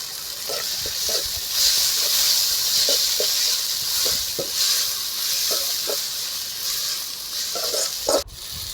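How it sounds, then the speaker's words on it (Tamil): Ginger garlic paste added to hot oil, a steady hissing sizzle close by with scattered soft spatters and a sharp clatter near the end. "நம்ம அரைச்சி வச்சுருக்க இஞ்சி பூண்டு பேஸ்ட்டை அதில் ஆட் பண்ணிக்கிறோம்"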